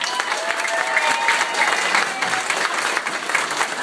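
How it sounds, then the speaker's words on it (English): An audience at a Sydney book launch applauds warmly, a thick continuous wash of many hands clapping, loud and steady throughout. "you need to give her a round of applause"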